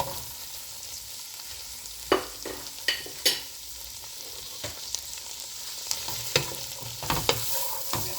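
Seasoning being stirred into cornmeal in a pot, Jamaican style, with soft stirring and scraping under a faint sizzle and several sharp spoon knocks against the pot.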